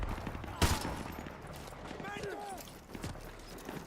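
Suppressed gunfire in Modern Warfare 2 Remastered, with one sharp loud crack early, then scattered lighter shots and clattering over game sounds, a voice talking through it.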